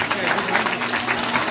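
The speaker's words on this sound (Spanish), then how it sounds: "Fuerte, fuerte ese aplauso." A dense, steady wash of audience applause fills a student arts performance event in Palmaseca, continuous and fairly loud throughout with no clear gaps.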